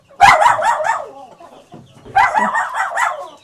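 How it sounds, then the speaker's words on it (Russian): Chickens and young chicks at a home farmyard cluck and squawk in two loud, close bursts of agitated calls, separated by a brief quiet gap with a low murmur. "Эти наши маленькие цыплята."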